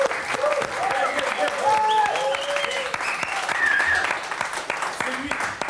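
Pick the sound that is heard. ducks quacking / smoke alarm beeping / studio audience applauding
studio audience applauding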